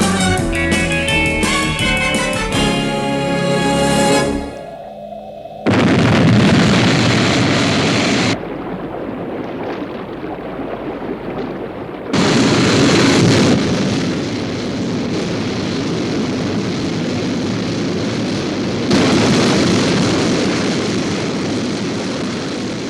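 Aircraft liftoff from the SHADO UFO series: a loud roaring launch with a blast-like surge and sustained engine rush that drops out abruptly and returns, over music at the start, with no speech.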